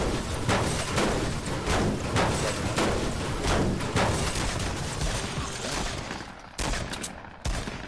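Dense, continuous gunfire in the Fortnite 50 vs 50 game mode, rapid overlapping shots rattling almost nonstop and loud throughout, with a few sharper bursts standing out near the end.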